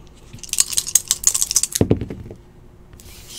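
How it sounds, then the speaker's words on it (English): Two dice are rolled and clatter with a quick run of sharp, bright clicks and rattles, then settle with a short knock and go quiet. Close and fairly loud, with no talk over them. "All right, let's roll these dice."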